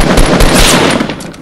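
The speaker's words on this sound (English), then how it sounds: "Whoa, where did I get sniped from?" Gunfire from the Fortnite battle royale video game, a short burst of several rapid, sharp reports in quick succession, loud and close with no voices.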